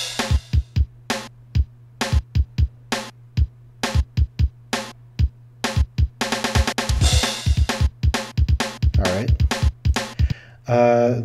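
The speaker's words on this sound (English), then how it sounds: "your regular percussion with like drums and cymbals" A custom Donkey Kong 64 percussion soundfont plays a sequence of sharp drum hits and cymbal crashes. The hits start sparse and grow denser, over a steady low hum, with no voices.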